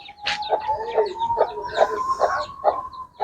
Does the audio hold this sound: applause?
no